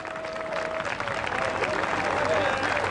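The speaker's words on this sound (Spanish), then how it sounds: "Y le damos un aplauso grande de alabanza al Señor" A church crowd at an outdoor park event claps in praise, dense continuous applause with a faint tone and some voices mixed in.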